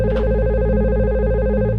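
A telephone rings unanswered with a steady, warbling electronic tone that carries on without a break over a low background hum.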